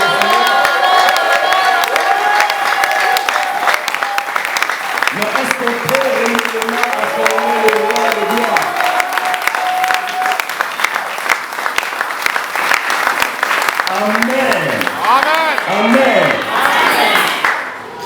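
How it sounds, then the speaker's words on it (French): A large audience at a church-style gathering applauds and cheers for a guest pastor, with sustained, dense clapping, whoops and shouts close by for the whole stretch. "Est-ce que nous pouvons acclamer?"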